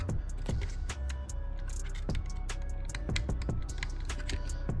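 A replacement window switch in a Chevrolet Silverado clicks sharply several times, short plastic snaps spaced irregularly over low road or engine hum, up close.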